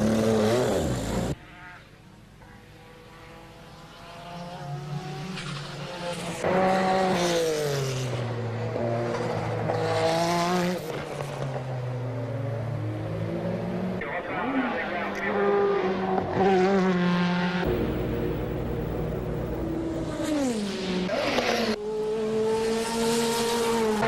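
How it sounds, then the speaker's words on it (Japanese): A race car lapping the track at the 1990 Le Mans 24 Hours, its loud, close engine note repeatedly climbing and dropping through gear changes, with brief lifts and hard accelerations. "82リットルの給油とタイヤ交換を済ませたマシンは国光のドライブでコースへと消えていった。"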